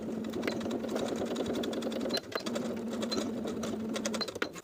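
A sewing machine runs in steady continuous bursts, stitching in the ditch to secure elastic over a seam line on a midi skirt waistband, with one brief pause midway.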